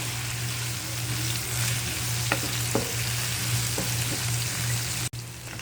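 Seafood curry ingredients with tomato sizzle and sauté in a pan, a continuous frying hiss broken by a few light clinks of stirring, followed by one sharp knock near the end.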